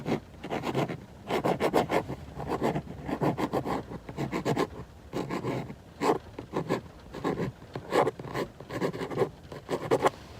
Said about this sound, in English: let me just write it right here